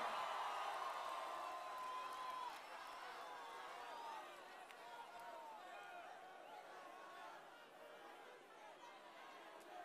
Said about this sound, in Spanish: El aplauso para usted, La Plata.